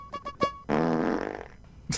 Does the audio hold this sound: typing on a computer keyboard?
no